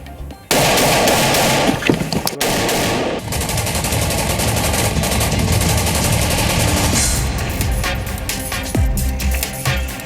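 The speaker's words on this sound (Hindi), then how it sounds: "सबसे ज्यादा फायरिंग पाकिस्तान की ओर से आरएसपुरा और अरनिया सेक्टर में हो रही है।" Cross-border firing from the Pakistani side in the RS Pura sector of Jammu, dense loud bursts and rapid shots running almost continuously, with a brief break near the start.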